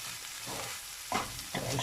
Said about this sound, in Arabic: ونميلونجيو كلشي نميلونجيوه